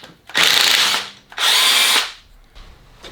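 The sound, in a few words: power tool removing wheel from Ford Escape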